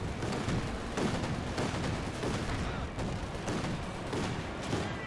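Dense, continuous battle din from Company of Heroes 2: overlapping gunfire and artillery blasts rumble and crack steadily throughout, with periodic heavier bursts and a faint voice beneath.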